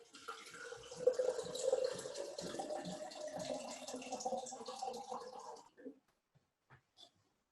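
Tap water runs steadily into a container in a chemistry lab sink for about six seconds, then stops, leaving a few faint drips and clinks.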